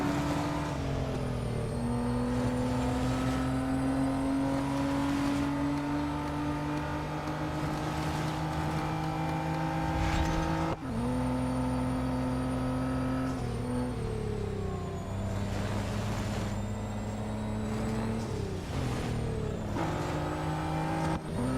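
Race car engines roar in the Real Racing 3 video game during a Nissan NISMO R33 track day event, a loud continuous drone whose pitch climbs and drops through gear shifts, with several cars heard close together and no talking.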